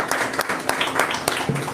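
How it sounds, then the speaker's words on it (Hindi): A church congregation applauds a first-time visitor at a Sunday evening service, a brief burst of loud, dense clapping with a voice briefly heard near the end. "हम उनके लिए जोरदार ताली बजाते हैं"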